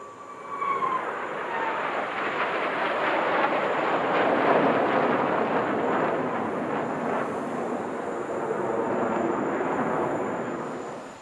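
Fursan al Emarat aerobatic team jets performing a flying display at the Dubai Airshow, a loud sustained jet roar that swells and holds steady across the whole stretch, with a brief rising whine near the start.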